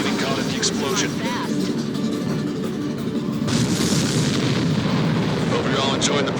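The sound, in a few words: missile explosion in Ace Combat 7 video game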